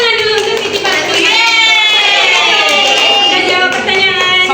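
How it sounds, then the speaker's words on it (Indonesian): A classroom of children claps for a classmate during a microteaching maths lesson. Loud clapping is mixed with the children's voices calling out together in a sustained chorus. "Beri tepuk tangan dulu untuk Siti Balkis."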